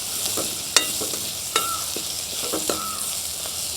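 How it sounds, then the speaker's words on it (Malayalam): Crushed spices and chili powder sautéing in a pan for a crab rasam: a soft continuous sizzle, punctuated by a few sharp spoon clicks against the pan, close and moderately quiet, no voices. "നല്ലപോലെ ഒന്ന് വഴറ്റാം"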